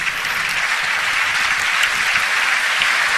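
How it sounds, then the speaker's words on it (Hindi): A studio audience at a television talent show claps. The crowd applause is loud, steady and continuous for a few seconds, with no pauses. "ना बजानी है तो भरपूर ताली बजाएं, ऐसे चिक चिक से क्या होता है"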